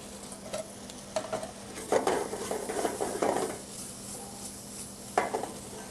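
Lobster sauce with cognac poured into a hot pan and stirred, a steady sizzle with scraping utensil strokes and clinks of cookware, moderately close and without talk.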